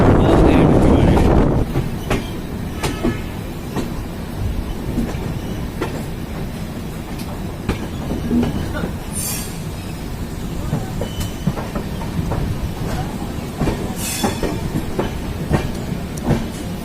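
The Ganga Satluj Express runs on the rails between Lucknow and Varanasi, with a loud, steady rumble and rhythmic clickety-clack of the wheels heard from inside the moving train, plus a louder burst at the start.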